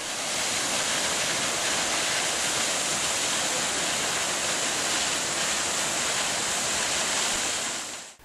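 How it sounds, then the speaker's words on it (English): A pretty waterfall roadside in Sikkim, East India, pours with a dense, steady roaring hiss that stays constant and close before cutting off at the end. "On our way to the Phodong Monastery, we passed a pretty waterfall."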